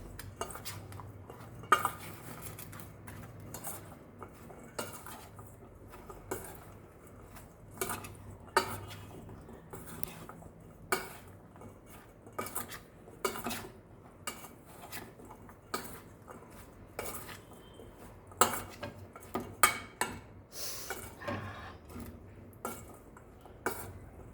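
Raw mango pickle mixture being stirred in a bowl, with repeated soft scrapes and clinks of a spoon against the dish, close and steady under faint kitchen background.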